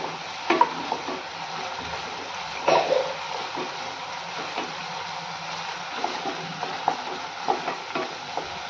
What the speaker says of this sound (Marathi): सिमला मिरची भाजून घेऊयात छान अशी सारखी भाजून घेऊयात एक मिनिटभर परतूयात